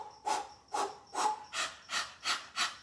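A person imitates a rooster panting with about seven rhythmic, breathy huffs at an even pace, close and fairly quiet, with no other sounds.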